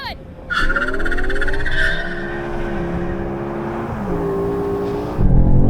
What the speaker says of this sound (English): Okay then, Daniel, now you go all-wheel drive, launch control, and I'm going to use launch control.